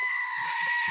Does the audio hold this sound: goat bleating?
yes